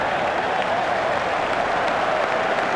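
Cricket crowd at an India versus Australia match applauding Rahul Dravid, a steady, dense wash of clapping and cheering from a large stadium audience, even and sustained throughout.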